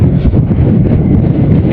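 Loud, steady wind buffeting the microphone, a low roaring rumble throughout with someone speaking briefly over it.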